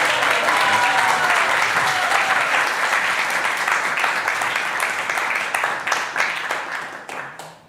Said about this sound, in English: Let's have a big applause for Surabhi Devi's Kirtan